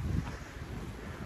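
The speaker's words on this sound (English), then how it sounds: "wind has definitely picked up and the snow intensity picked up too" Strong wind blowing on the Appalachian Trail during an April snowstorm, heard as a steady rushing roar buffeting the microphone, with a heavier gust at the start and no talking.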